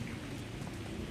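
Light drizzle patters faintly and evenly at sunset in Baguio, a soft continuous hiss with no voices.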